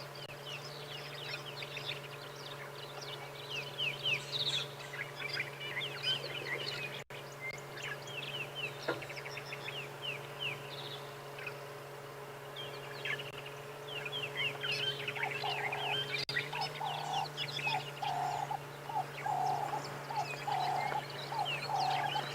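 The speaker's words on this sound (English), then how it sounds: "It is quite an unusual bird call." An unusual bird call at sunrise in the African bush: faint, repeated chirps and short trilled phrases over a constant hum and insect-like background, with other distant birds scattered throughout.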